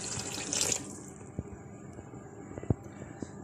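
Water is poured from a glass into a pan of minced meat cooking with green chillies, a short splashing gush at the start followed by quieter simmering and a few faint clinks.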